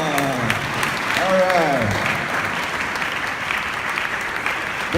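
An audience at a youth empowerment programme applauds continuously to celebrate a woman, a broad, steady clapping that runs throughout while a speaker talks over it.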